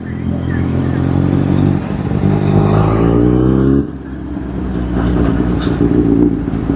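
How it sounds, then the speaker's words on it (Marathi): Motorcycle engine running while riding, a steady close rumble that rises in pitch and then drops back, with wind noise and someone talking over it. "गाडीचा आवाज आज शांत वाटतोय की आज जास्त वरडत नाहीये गाडी."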